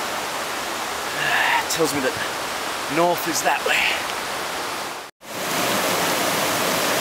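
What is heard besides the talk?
river flowing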